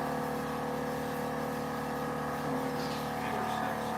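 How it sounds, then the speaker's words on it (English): A small 12-volt air compressor feeding a set of eight train horns runs steadily, a continuous droning hum held at even loudness throughout with no pauses. "It's just a little 12-volt compressor."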